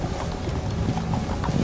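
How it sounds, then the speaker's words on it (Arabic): Galloping horse hooves as a sound effect, rapid clip-clop beats in quick rhythm, fairly close and moderately loud over a windy, rumbling background. "يغمس حصانه فينطلق"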